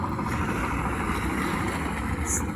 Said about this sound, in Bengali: ট্রলার চলে গেল মাছ নিয়ে বিভিন্ন জায়গা